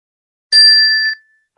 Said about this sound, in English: And that was my little chime.